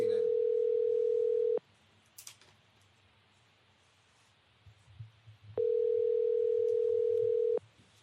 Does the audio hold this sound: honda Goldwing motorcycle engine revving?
no